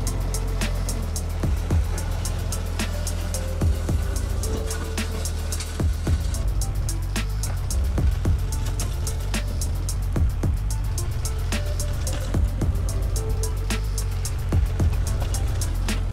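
A tractor dragging a rock bucket to level backyard ground, a continuous low engine drone with scraping and knocking of soil and stones, loud and near with no talk over it.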